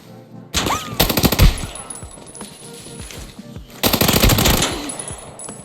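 A 7.62 rifle firing in the video game Arena Breakout: two loud bursts of rapid automatic fire, the first longer, with casings clinking and a lull between them.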